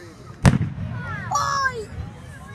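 A large firework bursting on Canada Day, a single sharp loud bang followed by crackling and whistling trails, with people talking around it.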